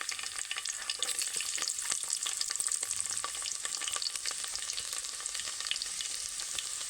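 Garlic, curry leaves, bay leaf, dried red chillies, cumin and turmeric hit hot oil for a moong dal tempering, giving a loud, steady sizzle with fine crackles and pops that runs unbroken from start to finish, with no voices.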